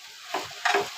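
Grated raw mango being stirred in hot ghee for gulamba, two short scraping swishes over a soft steady sizzle, close and fairly loud, no voices.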